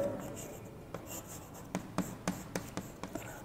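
During an English lesson, a marker or chalk writes on a board in a series of short, distinct strokes and taps, close and fairly quiet, with no talking.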